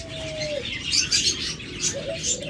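A tame domestic-foreign cross hunting dove coos and chirps in short bursts near the listener, with a brief flutter of wings among the calls and no voices.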